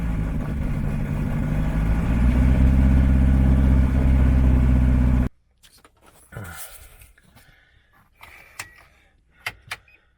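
Fuel-injected turbo Rotax engine on a RANS S-7S aircraft fires up and runs loudly and steadily for about five seconds with a strong low drone, then cuts off abruptly, leaving faint clicks and scattered handling knocks.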